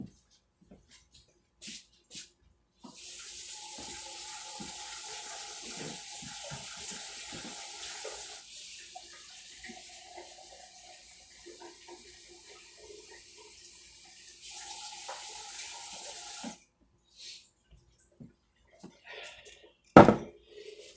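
A kitchen tap runs warm water into cups for sourdough hamburger buns, a steady hiss and splash for about fourteen seconds that changes tone midway, framed by small clinks and a loud knock at the end.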